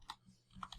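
Several quick, quiet clicks of keys being typed on a computer keyboard, close and soft, arriving in two small bursts with a short pause between them.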